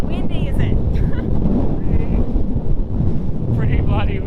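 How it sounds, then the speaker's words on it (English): Strong wind roaring continuously at Winderabandi Point on the Ningaloo coast, a loud low rumble of gusts buffeting the microphone throughout, with faint voices under the noise. "Pretty bloody windy."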